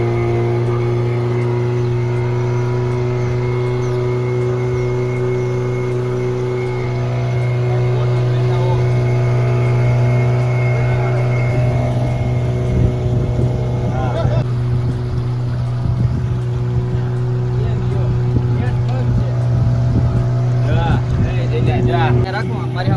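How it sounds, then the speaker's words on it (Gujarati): Motorboat on Sardhar lake, its engine humming at a steady idle, then building to a louder, rougher drone as the boat gets under way, heard close up with voices now and then. "હાલો હવે આપણે બોટિંગ કરી સરદારના તળાવે"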